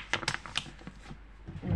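White chocolate is smashed inside a plastic bag, producing a few sharp cracking taps and crinkles in quick irregular bursts, close up, followed by a rising low rustle.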